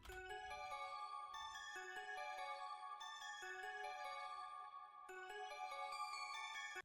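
Simple synth key pattern from an analog lap bank preset in FL Studio, repeating bright bell-like notes in a looping rhythm with brief gaps, clean and alone.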